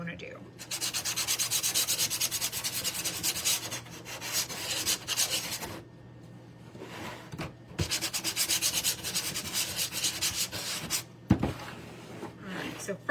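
Wooden buttons are sanded by hand in long, steady scraping strokes, loud and close, in several bursts separated by short pauses, with a low hum running underneath.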